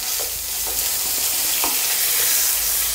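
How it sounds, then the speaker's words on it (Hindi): Finely chopped green chilies sizzle and fry in hot spices in a pan for a South Indian sambhar, with a steady hiss and a few soft stirring scrapes, close and alone. "अब इसमें मैं डाल रही हूँ बारीक कटी हुई मिर्ची"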